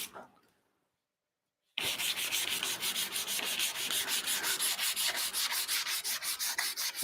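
A knife blade is sanded by hand in rapid back-and-forth strokes, a rhythmic scratchy rubbing that starts abruptly after a brief quiet moment and continues close and steady.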